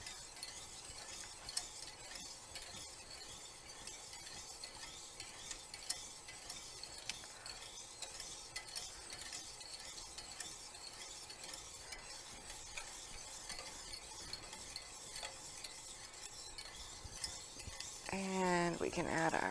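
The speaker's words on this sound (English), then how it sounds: "And just keep stirring. And they'll melt a little more." Butter melting in a pan for hollandaise sauce is stirred steadily, a soft continuous scraping with faint sizzle throughout, and the stirring grows louder and more clattery near the end.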